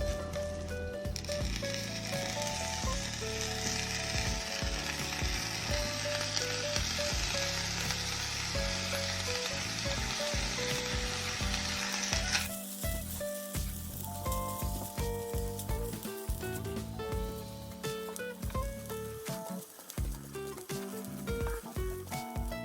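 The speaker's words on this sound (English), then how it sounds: "So after stir frying this for 5 minutes, I'm adding the stir fried vegetables, eggs, and the prawns." Rice sizzles and fries in a hot pan as stir-fried vegetables, eggs and prawns are added for fried rice, a steady loud crackling hiss with scraping and stirring, the bright sizzle easing partway through.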